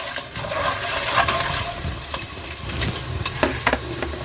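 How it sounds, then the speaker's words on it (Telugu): Peanuts frying in oil in a pan for lemon rice, a loud continuous sizzling hiss with bursts of crackling and a few sharp pops, close and without talk. "కొంచెం వేగాలి ఇవన్నీ."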